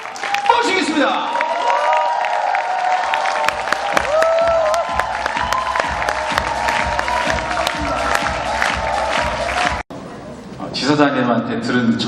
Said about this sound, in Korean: 송진구 교수님을 박수로 모시겠습니다.